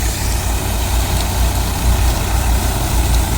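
A New Holland 3600 tractor powers a Shaktiman thresher, the diesel engine and machinery making a loud, steady low drone with a continuous broadband roar and no speech.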